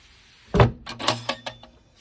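A wooden drawer slides into a camper bed frame, with a firm thump followed by a short series of lighter wooden knocks and clatters, close by.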